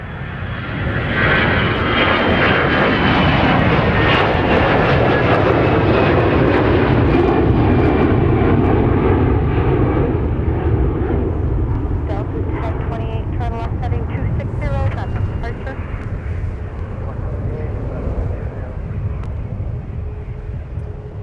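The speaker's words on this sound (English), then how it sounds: "It's a Prime Air 737 800 Boeing converted freighter." A Prime Air Boeing 737-800 converted freighter holds short on the taxiway at Minneapolis, its engines giving a loud, steady whine and roar that eases slightly toward the end while a voice speaks over it.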